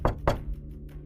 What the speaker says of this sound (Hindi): तभी अचानक घर के गेट पर किसी ने जोर से दस्तक दी।